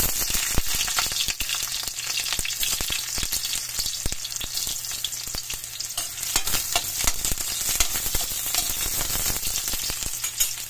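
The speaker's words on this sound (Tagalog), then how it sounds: "Gigisa na natin guys yung bawang. Mix natin yung sibuyas." Garlic and onion sautéing in hot oil in a wok, with a continuous close sizzle broken by frequent clattering scrapes and stirring strokes of a utensil.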